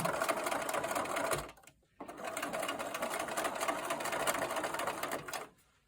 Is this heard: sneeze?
no